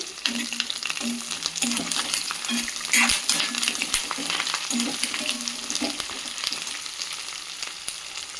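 Curry leaves frying in hot oil for a brinjal chutney, a steady close crackling sizzle with light stirring clinks and spatters throughout, no talking.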